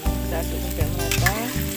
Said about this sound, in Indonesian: Aduk sampai merata.